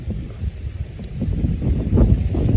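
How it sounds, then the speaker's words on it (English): Cold November wind gusting outdoors, a low rumbling buffet with uneven swells that grows slightly stronger toward the end. "Ooh, it's windy"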